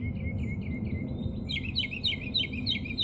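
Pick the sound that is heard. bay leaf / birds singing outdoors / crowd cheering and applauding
birds singing outdoors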